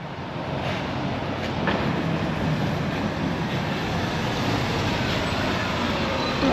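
A bus pulls in at a stop in Chesterfield. A steady engine and road rumble swells slightly as it draws near, with no one talking.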